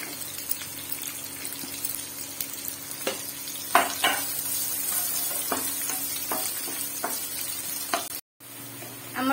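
Onion added to a pan with cumin and frying, a steady sizzle with scattered stirring clicks and scrapes, briefly cutting out near the end before resuming.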